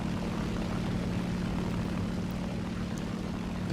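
A propeller aircraft drones steadily in a naval combat video game, a constant engine hum at even loudness with no voices over it.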